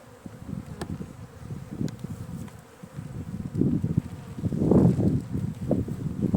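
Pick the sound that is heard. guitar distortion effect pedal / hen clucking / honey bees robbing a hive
honey bees robbing a hive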